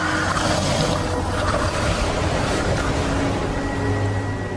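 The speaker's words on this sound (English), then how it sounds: "The waves are getting worse." Rough seas around a small fishing boat make a continuous loud roar and wash of surf and wind, steady and close throughout with no talking.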